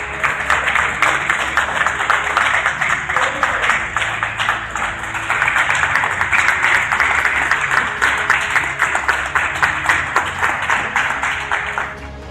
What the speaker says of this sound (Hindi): पूरा एयरपोर्ट तालियों की आवाज से गूंज उठा